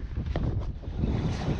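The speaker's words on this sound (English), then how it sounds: "Sorry for the wind and waves." Wind buffets the microphone beside the Connecticut River, with a low rumble of waves lapping against a fishing boat, steady and close.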